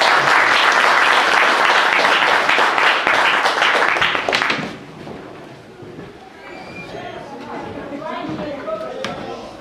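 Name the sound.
audience round of applause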